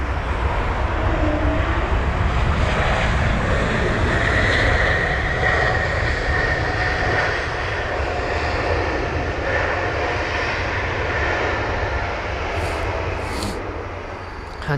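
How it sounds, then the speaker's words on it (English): Airbus A220-100 airliner passing at London Heathrow, a broad steady engine roar that swells and slowly eases off, fairly close and heard alone with no talk. "That was the A220-100 that we missed."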